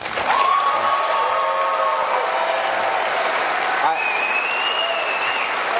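An audience at a town hall event applauds steadily, a dense, sustained wash of clapping with faint cheering mixed in.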